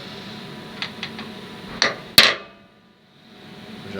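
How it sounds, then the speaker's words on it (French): A wooden mallet taps wooden wedges to shift them, giving a few light knocks followed by two sharper, louder strikes, close by and alone. "on peut décaler ici avec le maillet un peu les cales"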